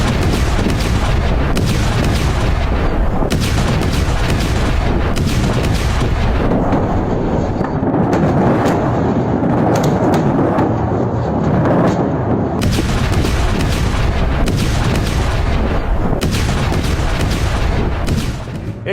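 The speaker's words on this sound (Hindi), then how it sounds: "जो धमाका हुआ है तेहरान में।" Repeated heavy booms and blasts from an attack on Tehran crash one after another over a continuous roar, loud and dense, with a slightly quieter stretch in the middle.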